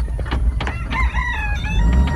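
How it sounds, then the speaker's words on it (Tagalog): A rooster crows loudly and close by at an outdoor game site, its drawn-out harmonic call rising and falling against a rough background of ambient noise. "Oh, may manok."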